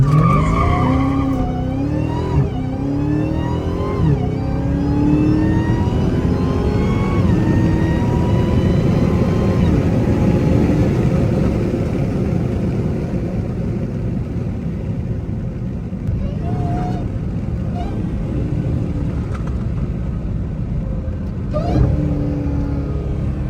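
A Dodge Hellcat Charger on Weld wheels accelerates hard in a loud, sustained engine roar with rising gear sweeps heard from inside the car, along with faint tire noise and rumble.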